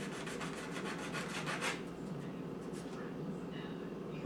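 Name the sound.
rubbing N scale model building parts on sandpaper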